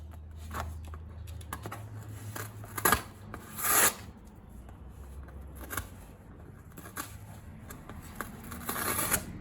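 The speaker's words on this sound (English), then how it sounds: "all cardboard isn't the same. Some peel different than others." Cardboard layers being peeled apart with tweezers on a model repair give soft, scratchy tearing and rasping sounds, with brief louder rips around the middle and end, close and fairly quiet.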